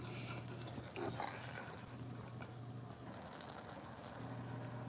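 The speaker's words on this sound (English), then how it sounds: "while that's bubbling, happily bubbling away" Food simmers and bubbles in a pot, a faint, steady wash of soft bubbling over a low constant hum, with no talking.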